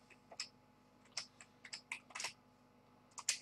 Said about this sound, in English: I can type in whatever I want.